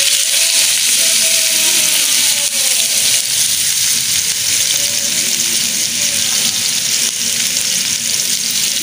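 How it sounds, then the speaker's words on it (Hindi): Onions frying in hot ghee, a loud dense crackling sizzle held steadily from start to finish, close up, with no talking over it. "ये देखिए मैंने घी डाल ली है। ठीक है, बिस्मिल्लाह। मैं प्याज डालूँगी।"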